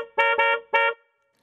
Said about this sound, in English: A car horn!